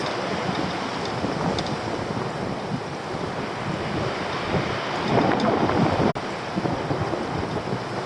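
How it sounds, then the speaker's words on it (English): Strong wind blows outdoors by the sea, a steady rushing roar buffeting the microphone, with surf-like swells and a brief dropout near the end, no talk. "That wind is getting worse."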